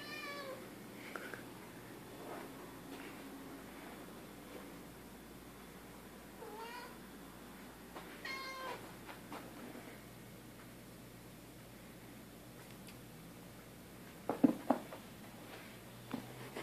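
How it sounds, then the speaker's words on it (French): A cat playing with a cotton swab, giving several short meows among faint rustling and small knocks, with a few louder thumps near the end over a quiet background. "Ça, c'est mon chat avec un coton-tige."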